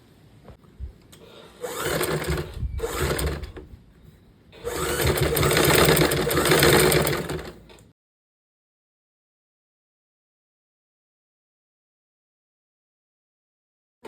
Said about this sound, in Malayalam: എന്നിട്ട് പതിച്ചൊന്ന് സ്റ്റിച്ച് ചെയ്തെടുക്കാം